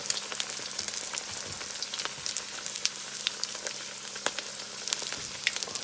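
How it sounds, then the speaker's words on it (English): Egg rolls about four inches long deep frying in hot grease, a steady close crackling sizzle with sharp pops and spatters throughout, no talking. "Got my grease heated up, and these things are gonna cook so fast."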